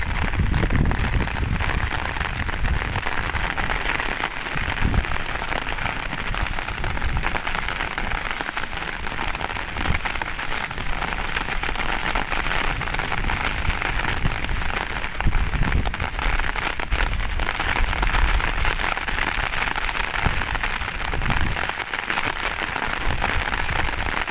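A sudden heavy downpour pours steadily in a village setting, a dense, loud, unbroken hiss of rain on surfaces that holds for the whole stretch with no voices.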